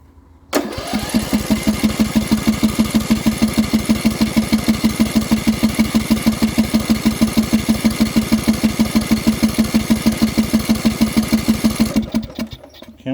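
A Poulan Pro engine on a test stand fires up abruptly and idles with a loud, steady, rapid putter for about twelve seconds before cutting out.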